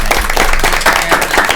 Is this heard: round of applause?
yes